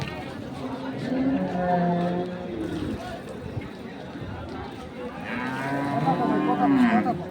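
Dairy cows lowing at a village livestock market in Dinajpur, Bangladesh, with two long, drawn-out moos close by over a busy crowd, and people talking throughout.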